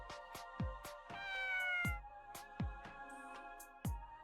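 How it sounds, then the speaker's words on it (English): A cat meows in the video game Persona 2 Eternal Punishment. One drawn-out meow rises above repeated thudding footstep-like hits and a steady musical hum. "Forget that stupid cat."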